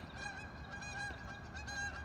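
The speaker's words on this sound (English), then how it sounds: "these geese trip me out." Several geese honk repeatedly at close range, their nasal calls overlapping in a busy, steady chorus outdoors with no talking.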